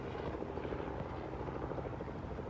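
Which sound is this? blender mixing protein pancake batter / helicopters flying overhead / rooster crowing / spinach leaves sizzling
helicopters flying overhead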